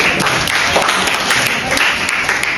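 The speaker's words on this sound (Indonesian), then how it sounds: "Tepuk tangan" An audience at a business seminar breaks into loud, dense applause, a steady wash of many hands clapping close by throughout, with no talk over it.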